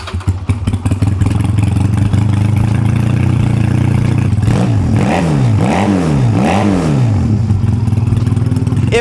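Honda Rebel 250 motorcycle engine cranking on the start button, catching, and settling into a steady close idle, with a few rhythmic revs rising and falling in the second half.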